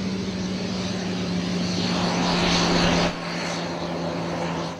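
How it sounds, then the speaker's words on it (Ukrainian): Propeller airplane arriving on an airport runway: a steady loud engine drone with rushing airflow builds toward a peak around three seconds, then eases slightly and continues, with no voices. "Півгодини очікування і на посадковій смузі з'являється перший літак"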